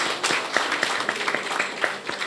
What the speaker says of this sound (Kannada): ಆತ್ಮೀಯ ಬಂಧುಗಳೇ, ಇವರು 4 ಮಂದಿಗೆ ಜೋರಾಗಿ ಚಪ್ಪಾಳೆ ಕೊಟ್ಟು ಸ್ವಾಗತ